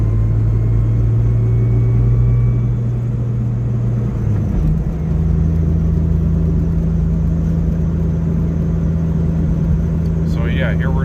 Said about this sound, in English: Yeah, here we're just cruising in fourth at 45